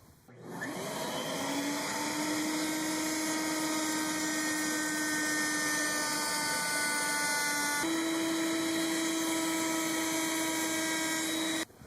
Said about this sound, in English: So I'm going to go ahead and we'll route this.